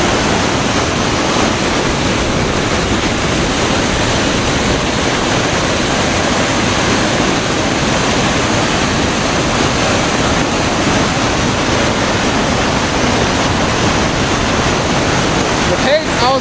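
Rushing mountain water carving out rock on a high alpine hike near the Grande Dixence dam, a loud, steady roar of water that fills the whole stretch without a break.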